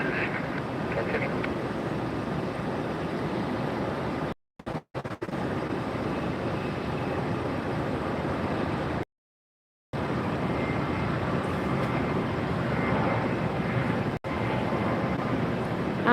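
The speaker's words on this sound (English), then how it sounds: "It looks like a delta and it looks like a southwest on the roll now" An airliner rolls for takeoff at Tampa airport: a steady, broad roar of jet engines held at a constant level, with two brief dropouts in the sound.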